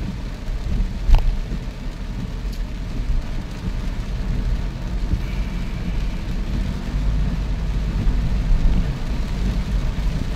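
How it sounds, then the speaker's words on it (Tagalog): Heavy, steady rain drumming around a moving vehicle, a continuous dense roar with low road rumble beneath and a single brief knock early on, with no voices. "hanggang ngayon patuloy pa rin na palakas yung ulan"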